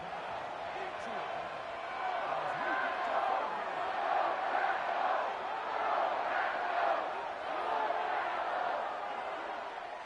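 A stadium crowd at an American football game keeps up a continuous, loud roar of cheering and yelling that swells and dips slightly throughout.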